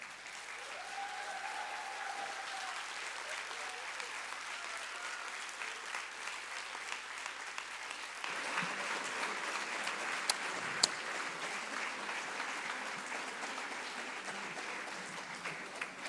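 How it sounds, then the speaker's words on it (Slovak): An audience at a school art academy Christmas concert in Nová Dubnica applauds steadily, a sustained wash of clapping that continues for the whole stretch and swells slightly midway, with no speech over it. "dámy a páni, ten potlesk."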